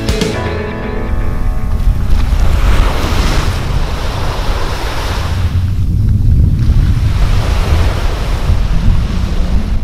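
Waves breaking on Playa del Lago along the Camino de los Faros between Camariñas and Muxía, a loud, continuous close-up roar of surf mixed with gusting wind buffeting the microphone.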